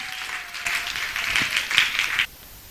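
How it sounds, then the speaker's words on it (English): A crowd of women in an audience breaks into loud, dense applause that swells for about two seconds and then cuts off abruptly. "can you give Reim an amazing, energy-busting applause, please, ladies?"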